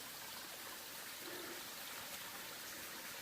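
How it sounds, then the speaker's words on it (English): Small mountain stream on the Appalachian Trail near Watauga Lake flowing steadily, a soft continuous rushing and trickling heard close by without speech. "A little stream coming through here."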